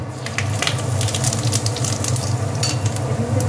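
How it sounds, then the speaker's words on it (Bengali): Dried red chilli, cumin and a bay leaf sputter in hot oil for a koi fish dish, making a loud, close, continuous crackling sizzle with a low rumbling undertone. "এবার ফোড়নে দিচ্ছে এই যে শুকনো লঙ্কা, একটুখানি জিরে আর একটা তেজপাতা"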